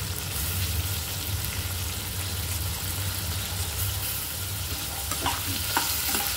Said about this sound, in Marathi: हे सगळं भाजून घ्यायचं